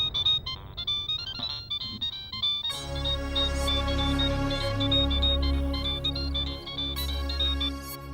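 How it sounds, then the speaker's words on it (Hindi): A phone ringtone for an incoming call plays a repeating melodic tune, loud and steady, with a sustained musical backing swelling in partway through, in a Hindi TV drama. "काम्या, आपने इस वक्त हमें क्यों फोन किया?"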